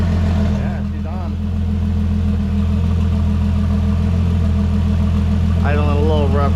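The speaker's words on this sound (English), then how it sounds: "Idling a little rough right now," A Toyota 2JZ engine idles roughly with a steady low rumble and slight unevenness, close and continuous, while a person talks briefly over it.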